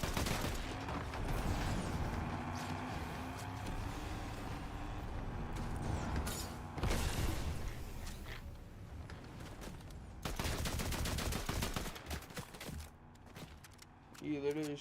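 Gunfire in the Fortnite video game comes in several loud bursts and volleys, clustered around the middle and again near the end, over a busy background of game noise.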